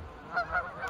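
Swans near a lake in New Zealand give three quick honking calls, nasal and moderately close, within about a second.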